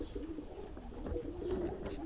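Pigeons on a sunny rooftop coo softly, low burbling calls at close range over faint background noise.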